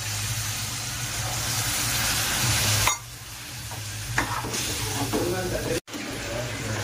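Butter chicken gravy masala frying in a pan as water is stirred in, a steady loud sizzle and hiss that drops sharply partway through, with stirring scrapes and a faint voice.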